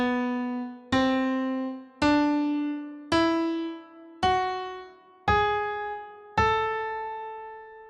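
Melodic minor scale played note by note on a sustained, piano-like instrument, seven separate tones stepping down in pitch at an even pace, each ringing out and decaying, clear and alone.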